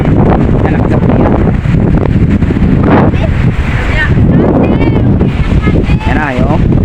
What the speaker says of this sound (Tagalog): lakas ang amihan